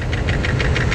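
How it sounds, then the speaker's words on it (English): Steady rhythmic ticking over the idle of a Mercedes W126 560SEL's big V8, caused by a leaking exhaust manifold gasket, loud and close with no voices. "Unfortunately, the tick is an exhaust manifold gasket, but that can be easily fixed."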